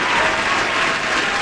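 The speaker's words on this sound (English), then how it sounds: "put your hands together and welcome him to the stage" Audience applause welcoming a performer onto a stage, a dense, steady wash of clapping at even loudness throughout with faint crowd noise mixed in.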